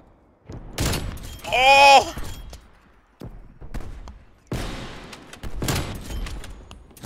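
Sniper rifle shots and gunfire in the video game Call of Duty Cold War ring out in a few sharp bursts, loud and close, with an excited voice exclaiming over the action.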